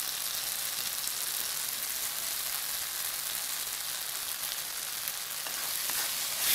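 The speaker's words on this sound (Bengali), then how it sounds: "এটাকেও ভালো করে ফ্রাই করে নিতে হবে যাতে এর কাঁচা গন্ধটা চলে যায়।" Ginger garlic paste fries with softened onion and tomato in a pan, giving an even, continuous sizzle that holds steady and close throughout, with no voices.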